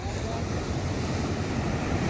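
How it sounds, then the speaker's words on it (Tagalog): Ocean waves roll and wash around a small boat on open water, a constant broad rushing surge with strong wind buffeting the microphone throughout. "lalaki na naman ang sunod na alon"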